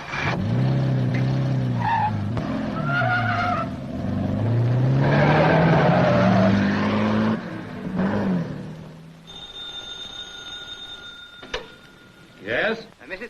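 A car pulls away outside a house in a 1940 film, its tires squealing and engine climbing in pitch amid loud, busy sound. A quieter stretch of thin ringing tones and a few sharp knocks follows.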